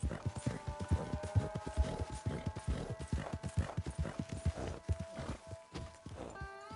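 Horse hooves clip-clop at a steady walking rhythm in the Red Dead Redemption 2 video game, close and distinct beats over a faint sustained tonal background, slowing near the end.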